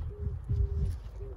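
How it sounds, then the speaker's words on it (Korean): Cuckoo calling on a weekend farm in the morning, two-note hoots repeating about three times, fairly distant over low rumbling background noise. "자연의 소리가 들리죠. 뻐꾸기."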